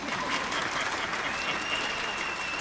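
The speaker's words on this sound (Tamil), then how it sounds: "கை தட்டலாம்." Audience applause at the audio launch of the film Thoongavanam, a dense sustained round of clapping from a large crowd, even and loud throughout, with a faint tone underneath.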